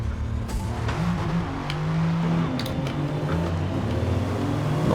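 Jaguar XJR-15 engine in the video game Forza Motorsport, a smallish-sounding engine droning and revving steadily under light track noise, heard without talk.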